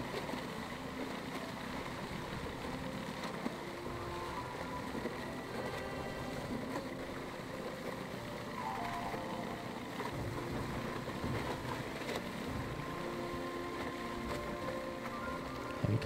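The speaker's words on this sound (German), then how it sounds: "Die Schiffbahn mit dem Motorboot." Motorboat engine in the video game Sea of Solitude, a steady low idling drone holding at an even level throughout with a faint hum of water and wind beneath it.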